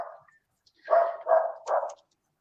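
A dog gives three close barks in quick succession, each a short, gruff burst in a quiet room, after a brief faint whine.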